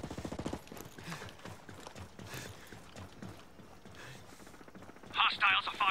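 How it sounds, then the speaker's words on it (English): Gunfire in the video game Ghost Recon Breakpoint: a rapid burst of shots at the start, scattered quieter activity through the middle, and another sharp burst of fire near the end. "I hear gunfire."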